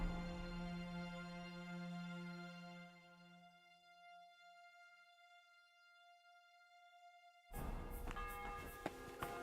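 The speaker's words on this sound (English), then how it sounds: "The 11th toll of the bell." A church bell tolls in Kingdom Come: Deliverance II, one strong ringing strike fading slowly over several seconds into near silence before a second bright, clanging toll rings out near the end.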